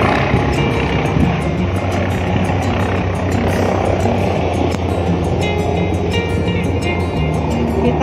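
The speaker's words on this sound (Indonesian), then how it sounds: "Ada suara pesawat tapi nggak kelihatan." A steady engine drone from an unseen aircraft passing overhead in Tsim Sha Tsui, Hong Kong, broad and rumbling, with some outdoor background noise around it.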